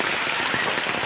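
Heavy rain pouring down during a typhoon, a loud dense continuous hiss of drops hammering surfaces close by.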